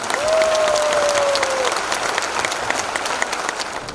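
An audience at a business presentation in Patna claps in a steady, dense round of applause throughout, with a brief whistle near the start.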